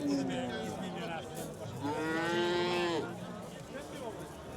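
A cow lows at a Fergana livestock market in two drawn-out moos, the second longer and louder, close by, with faint market chatter and background noise around them.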